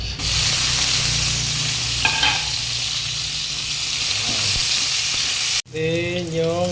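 Garlic frying in hot oil for pork biryani, a steady bright sizzle with occasional stirring clicks, then onions dropped in near the end, causing a sharp break and a fresh burst of sizzling.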